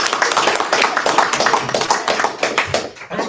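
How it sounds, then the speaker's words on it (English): A round of applause at a county board of commissioners meeting in Madison County, North Carolina: steady, close clapping from a small group that tapers off near the end. "That's the first round of applause I've ever gotten at one of these."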